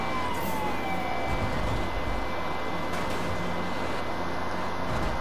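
Police car sirens wail during a pursuit in the Need for Speed 2015 video game, rising and falling faintly beneath a constant dense roar of engine and road noise with no talk.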